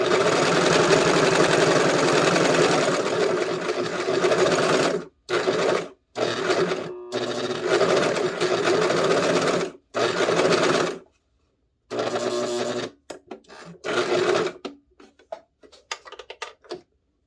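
An industrial serger sews around a curved skirt edge, a loud close steady run that breaks into a series of short stop-start bursts as the stitches are walked around the curve, with no talking.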